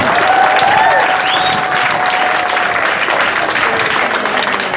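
A round of audience applause at a Philippine community weekend event, dense steady clapping from a crowd, fairly loud and continuous for a few seconds with faint background voices.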